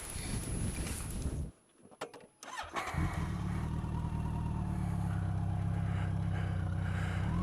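Motorbike engine starting on a ride through the British countryside: a brief wind rush gives way to sputtering catches, then the engine settles into a steady, close idle rumble.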